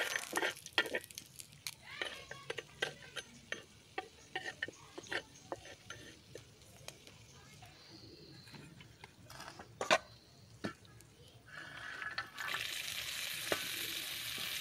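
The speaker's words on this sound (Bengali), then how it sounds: "আবার কুমড়ো বড়িগুলো ভেজে নিচ্ছি" Pumpkin bori, small lentil dumplings, frying in a pan of oil with a soft sizzle, punctuated by sharp scraping clicks of a spatula stirring, ending in a louder, steadier hiss.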